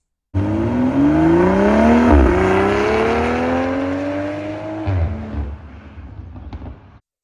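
A stock, untuned BMW M340i with a Mastery Art and Design catback exhaust and quad tips revs loudly and close, its engine note climbing in sustained pulls before dropping off and fading to quiet.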